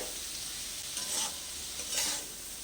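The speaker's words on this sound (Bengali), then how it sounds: "এটাকেও ভালো করে একটু নাড়তে হবে" Tomato and ground spices frying in a pan, a constant low sizzle with two brief swells of spoon stirring, close and without speech.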